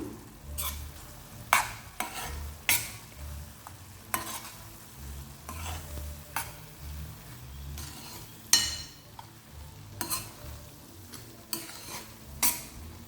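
A spoon stirs ridge gourd and moong dal curry with coriander powder in a pan, making repeated scraping strokes and clinks over a soft sizzle, close and fairly quiet, with no talking.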